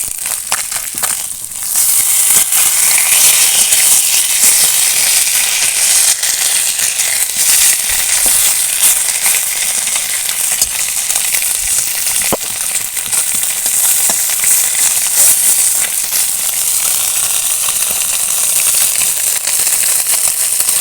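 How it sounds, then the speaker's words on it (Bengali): River fish, turned to cook the other side, fry in mustard oil with a loud, dense, continuous crackling sizzle that stays close and even throughout. "এইভাবে অপর দিকটাও ভালো করে ভেজে নিচ্ছি"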